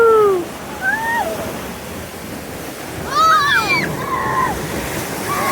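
Rushing, splashing water on the Grizzly River Run raft ride at Disney California Adventure Park forms a steady broadband wash, with riders shouting and talking excitedly over it.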